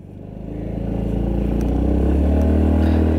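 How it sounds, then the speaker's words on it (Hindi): A Yamaha Ray ZR 125 Street Rally Edition scooter engine runs close by, its exhaust note rising steadily in loudness and pitch as it revs, a loud continuous rumble with no talking. "सबसे पहले सुनते हैं इसका एग्जॉस्ट नोट।"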